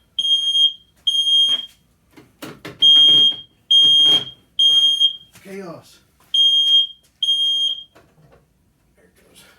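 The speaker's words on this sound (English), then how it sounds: "I got a fire alarm in here." A smoke alarm in a garage sounds loud, piercing beeps in a repeating on-off pattern, close by, while a person speaks briefly between the tones.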